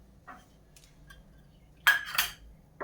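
A metal spoon clinks against a pressure cooker while oil is added for chicken biryani, a few faint clicks followed by two close, bright clinks near the end in an otherwise quiet kitchen.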